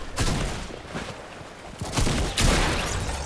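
Bursts of rapid gunfire in a shooter video game, several sharp volleys at moderate distance with brief lulls between them and no talk over them.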